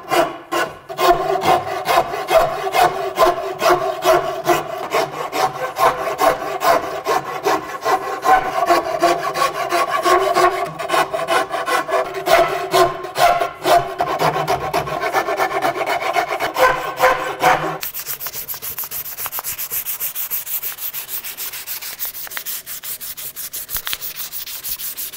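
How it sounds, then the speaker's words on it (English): A rasp works a hickory bow handle in steady back-and-forth rubbing strokes for about eighteen seconds, close and even, then a quieter, hissier stretch follows with no talk. "My tool of choice for shaping the handle is gonna be a rasp."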